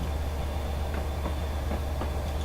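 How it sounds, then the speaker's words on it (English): A Class 67 diesel locomotive in a train simulator game coasting and slowing on a hill, giving a steady low rumble with faint rail clicks, continuous and fairly close with no talk. "I'm literally letting the train just bleed speed off"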